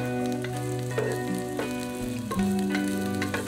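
Chopped onion frying in a pan with a small amount of oil, a steady close sizzle with a few stirring clatters throughout, no voices.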